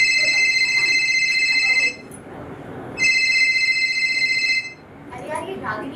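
A telephone rings in two bursts of electronic trilling with a pause between them. Talking continues underneath and after the rings.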